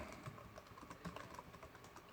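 Fast, light typing on a computer keyboard, a quiet, steady run of close clicking keystrokes with no pauses or talk.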